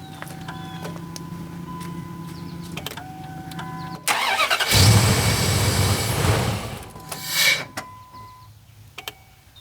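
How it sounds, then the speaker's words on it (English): A truck engine cranked with a JF Egwo 8250A jump pack: scattered relay clicks, then a sudden loud roar as the engine catches, which settles into a steady idle before a brief second surge. "It does actually start the truck"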